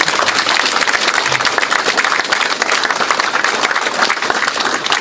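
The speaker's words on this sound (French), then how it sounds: "Je vais vous demander d'applaudir pour cette grande dame qui était notre vie." Mourners at a celebration of life for a woman in Paris break into applause, a full, continuous roar of many hands clapping, loud and even throughout, with faint crowd murmur underneath.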